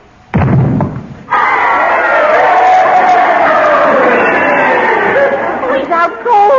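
A boxing-match crowd roars and cheers in a 1949 radio comedy. A dull thump opens it, then a loud, sustained wall of crowd noise with shouting voices carries on for several seconds.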